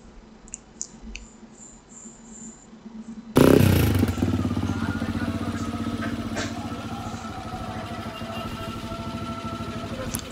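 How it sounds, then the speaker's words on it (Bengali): A Singer 125cc motorcycle modified into a cafe racer sits quiet with a few faint clicks, then its engine fires abruptly and settles into a loud, steady idle that throbs on alone. "বাইকের সাউন্ডটা শুনেন আপনারা"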